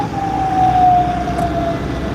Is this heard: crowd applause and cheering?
no